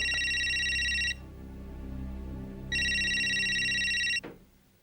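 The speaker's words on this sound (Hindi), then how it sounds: "संगीता, संगीता फोन।" A telephone rings in two long electronic bursts separated by a pause, loud and close, with a low hum underneath.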